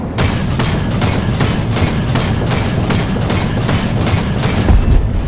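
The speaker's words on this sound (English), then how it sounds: "That's a big bomb." Heavy bomb blasts in the War Thunder battle game, a dense run of loud, rapid booming impacts filling the whole stretch, with one deeper thump near the end.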